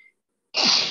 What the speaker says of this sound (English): Yeah, I had to sneeze.